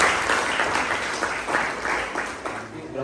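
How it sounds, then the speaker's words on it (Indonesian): A classroom of students claps together, a loud rippling burst that gradually tapers off, with some voices mixed in under the clapping. "Tepuk tangan."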